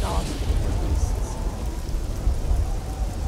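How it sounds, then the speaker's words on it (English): A thunderstorm in a fantasy role-playing game near Bruma rolls on as heavy, steady rain with low, continuous rumbling thunder underneath. "Really thundering."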